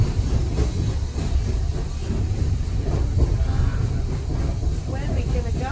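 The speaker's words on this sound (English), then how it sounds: "There's big trains," Train passing at a Day Out with Thomas event, a continuous low rumble and rolling rattle of rail cars moving close by, steady and fairly loud, with people talking over it.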